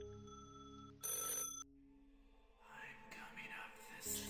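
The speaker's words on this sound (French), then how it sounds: "téléphone sonne, donc je vais décrocher" Telephone ringing in an escape room video game: a bright electronic ring bursts out briefly amid quiet tones, followed by softer noisy sounds and a second short ring at the end, with faint talk.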